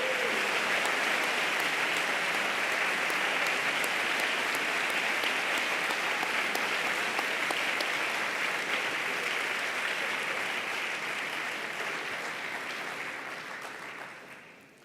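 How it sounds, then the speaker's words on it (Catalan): An audience at the Girona literary prizes gives sustained, even applause to the winner of the Carles Rahola essay prize, a steady wash of clapping that fades away at the end. "Un fort aplaudiment per Montserrat Tura"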